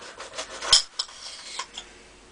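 A knife slices a Monster Yellow 7 Pot chili pepper in half, giving a few quiet, close scraping and rubbing strokes with one sharper click in the middle of an otherwise hushed moment.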